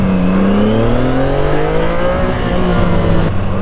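A CFMoto 675SR inline three-cylinder sportbike on its stock exhaust revs up close, the engine note climbing steadily and then dropping back, loud and continuous with no talking.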